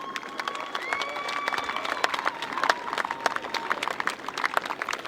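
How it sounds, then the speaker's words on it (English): Applause from a hockey crowd after the men's final between Auckland and North Harbour: steady, moderately distant clapping and cheering that carries on throughout, with some crowd noise and a few tonal sounds over it. "Round of applause, please."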